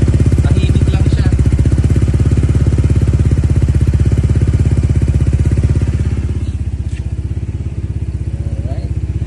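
A Honda ADV160 scooter fitted with a new power pipe exhaust idles close by, a steady low putter with a fast, even pulse that softens slightly partway through.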